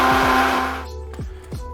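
A kitchen blender whirs loudly through ground garlic, ground onion and seasonings for vegan bragioli, then cuts off, leaving a few short rattles and knocks as it winds down.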